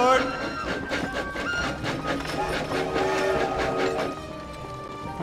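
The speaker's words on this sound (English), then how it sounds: "apparently people come through with these trains" A train rolls past in the Westward video game, a steady, full rumble with layered tonal hums that holds for about four seconds before easing off, with faint voices mixed in.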